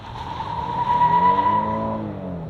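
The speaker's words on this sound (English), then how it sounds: "A little bit of wheel slip." The tires of a 2023 Hyundai Palisade squeal in one sustained, high chirp as the wheels slip during a hard launch, with engine roar rising underneath.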